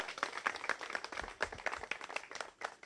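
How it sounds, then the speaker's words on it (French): Clapping from a small gathered audience at an informal talk: quick uneven claps from a handful of people, rather faint and thin, rising and dipping irregularly over a few seconds. "Applaudissez pour lui."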